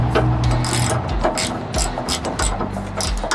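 A half-inch lock nut is tightened with a ratchet while a Diamondback HD bed cover is fitted to a 2020 Ram 1500 Rebel pickup, giving a rapid, loud, close clicking of the pawl in repeated bursts.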